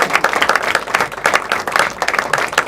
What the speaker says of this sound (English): if you clap your hands, stamp your feet, do everything the same as you did before, please help me welcome to the stage Mr. Gary Meeko!